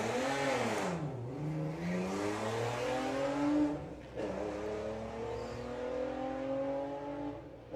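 Volkswagen Mk4 Golf drag racing down the strip at Santa Pod during Bug Jam qualifying, with engine roar climbing steadily through gear changes, loud and continuous, with no talk over it.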